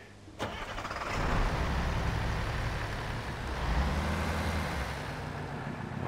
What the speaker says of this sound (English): Oh, that truck sounds nice, doesn't it?